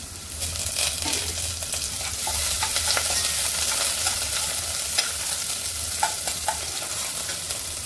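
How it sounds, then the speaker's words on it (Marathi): Onion and curry leaves frying in hot oil in a pot make a steady, close, crackling sizzle with small pops scattered throughout. "तेल टाकून घेऊया, कांदा टाकूया, कढीपत्ता टाकूया"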